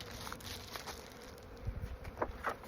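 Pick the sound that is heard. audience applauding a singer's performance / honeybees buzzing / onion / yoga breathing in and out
honeybees buzzing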